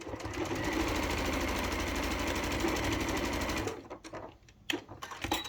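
A sewing machine back-stitching a reusable fabric bag runs in a loud, steady, rapid stitching burst for several seconds, then stops, leaving a few faint clicks and handling noises.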